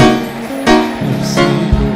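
A church congregation ululates together, with high, wavering trilled voices overlapping in a loud, sustained chorus.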